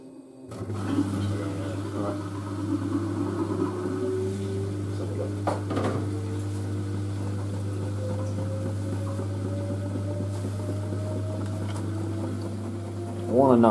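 An LG DirectDrive F1496AD 6-Motion washer dryer drum spinning at 400 RPM on a sportswear cycle, with a steady low motor hum and a faint rising whine, a voice talking over it.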